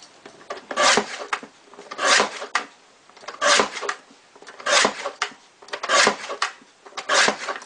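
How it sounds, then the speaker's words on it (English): Thin paper strips cut on a Stampin' Up! tabletop paper trimmer: six evenly spaced rasping, scraping strokes, each a short close swish of the blade sliding through paper, with quiet gaps between and no talking. "take this Stampin' Up! Tabletop trimmer, and you're going to cut really thin strips"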